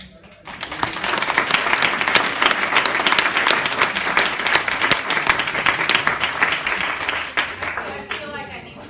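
Audience applause at a community gathering, a dense, steady round of clapping from many hands that swells quickly, holds, and tapers off near the end, with faint voices mixed underneath.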